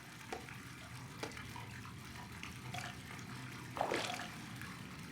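Water being collected in the video game Cairn, a faint, steady trickle and splash of liquid with a brief louder splash near the end and no talk over it.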